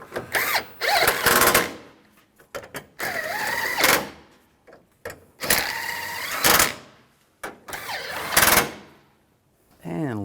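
Power tool tightening fasteners on the bumper molding of a 2007-2013 Chevrolet Silverado, several short loud whirring bursts separated by pauses, with handling clatter between them.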